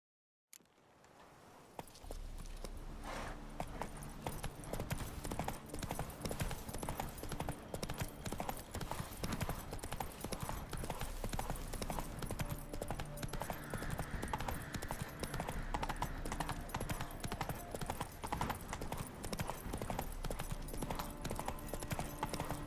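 Roach's hooves clip-clop at a steady pace through The Witcher 3, a continuous rhythmic trot under ambient game music and background sound.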